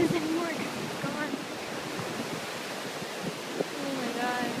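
A flooded river rushes past a washed-out bridge site in a steady, loud roar of churning water with wind buffeting the microphone, while a voice speaks intermittently over the torrent.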